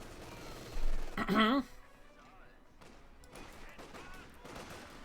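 Gunfire in a Company of Heroes 2 multiplayer battle, a loud burst of shots and impacts early on, then scattered quieter shots under continuous commentary.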